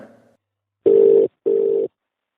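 Telephone ringing on an outgoing call to a newspaper office in Chennai: two even electronic ring bursts of about half a second each, separated by a short gap, close and clear with no voices.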